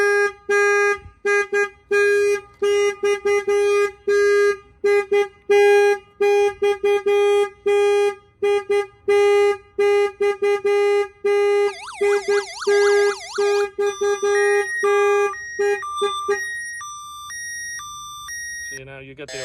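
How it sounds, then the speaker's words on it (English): Security alarm on a 2020 RAM Promaster van going off, a loud, rapid, repeating electronic pulse and then a warbling siren cycling through changing tones, close and dominant over a brief voice. "That will fire off the alarm."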